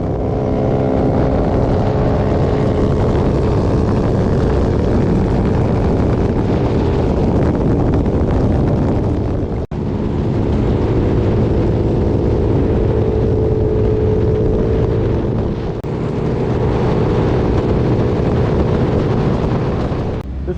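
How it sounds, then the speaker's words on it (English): Two 150cc GY6 scooters with cams and PWK 28mm carburetors running at high RPM on a highway, heard as a loud, continuous engine drone buried in heavy wind buffeting against the microphone, steady throughout with two brief dips. "we're doing tons of highway driving, a lot of high RPMs, a lot of wind speed"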